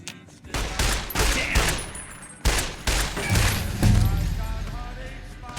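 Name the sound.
gunfire from tower guards in the video game Fallout: New Vegas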